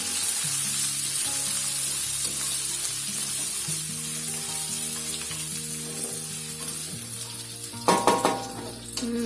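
Steady loud sizzling of ghee frying in a pan, with a faint low hum underneath and a few clinks of a utensil near the end.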